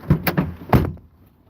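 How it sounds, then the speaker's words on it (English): A car door swings shut with a few close, solid thunks in quick succession, then the sound drops to a quiet tail. "when you bring the keys through this side, close that door"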